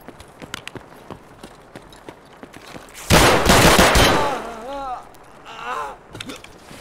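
RSASS rifle fire in Escape From Tarkov: sharp, close shots spaced out at first, then a dense loud burst of rapid fire lasting about a second, with faint chirping tones and a few clicks afterward.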